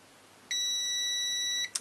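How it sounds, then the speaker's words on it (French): A multimeter on continuity mode gives a single steady electronic beep lasting about a second while probing the phase wires of an e-bike or scooter motor, clear and tonal against a quiet background, ending with a brief click. "c'est tout à fait normal que ça bip"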